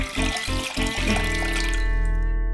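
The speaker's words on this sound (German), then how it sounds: "Das Wasser in einen Topf abgießen." Water from a drinking coconut poured into a pot, a close splashing trickle that breaks into a few bursts, then a ringing resonant tone as the flow settles and fades.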